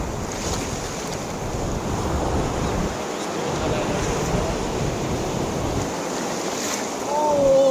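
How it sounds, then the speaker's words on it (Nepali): Sea waves surge and wash onto a Greek shore in a continuous broadband roar, mixed with steady wind buffeting the microphone; no clear individual breaks stand out. "यहाँ समुद्रमा यस्तो पुरा छाल आइरहेछ"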